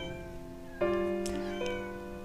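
A cat meows close by: one long, drawn-out, tonal meow, followed shortly by a second shorter call, with no other sounds around it.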